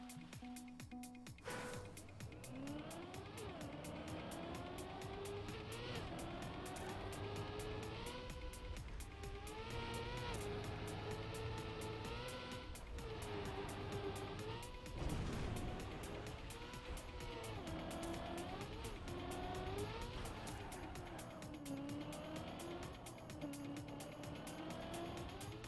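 Racing game engine audio from a MiniRPG map: a continuous car engine droning and revving, pitch rising and falling in waves throughout, loud and steady with no talk.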